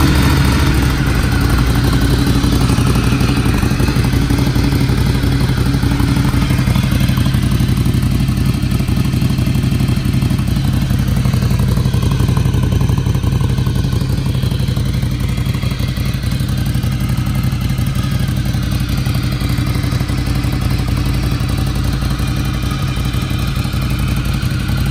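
A Ducati Scrambler 800 V-twin motorcycle, built as a cafe racer, runs loud and close with a continuous rough engine roar and mechanical clatter throughout, no talking.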